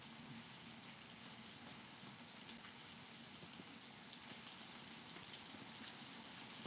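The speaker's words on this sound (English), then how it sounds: "Yeah, it's pouring." Heavy rain pours outside at night during a thunderstorm advisory, a dense, steady hiss of drops drumming on surfaces that fills the whole stretch without pause, fairly close and unbroken by voices.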